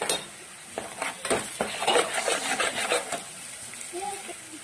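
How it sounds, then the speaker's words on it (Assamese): Onion, garlic and ginger fry in a pan for a restaurant-style matar paneer, stirred with a utensil that scrapes and clinks against the metal under a steady sizzle, with several close, clear strokes. "ধুনীয়াকে লৰাই ল'ব, মিলাই এতিয়া মছলাখিনি একেলগে দি দিওঁ"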